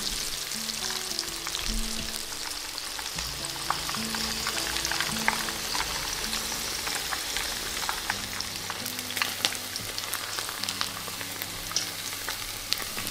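Steady, close sizzling of shrimp fritter batter with sweet potato frying in hot oil, with continuous crackle and pops throughout and no voices.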